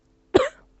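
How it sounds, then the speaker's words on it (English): A woman's single short cough, voiced as a sound effect in a spoken folk tale, one sharp close burst that trails off quickly after brief silence. "She coughed."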